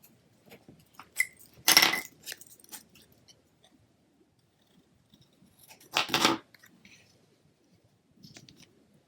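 Scissors snipping gift wrap paper in two short, crisp bursts of cutting, close and quiet, separated by small rustles and near silence.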